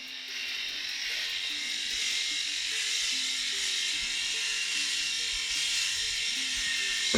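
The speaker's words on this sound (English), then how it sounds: "I'm gonna go over the parts that I missed from the skull shaver" Close, steady buzzing of a Skull Shaver Pitbull Silver electric head shaver running continuously, with a slight rasp as it moves over hair.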